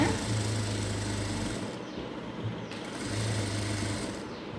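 Sewing machine stitching the side seam of a chudidar runs in two steady mechanical whirring bursts with a brief pause between them, close and clear, no talking.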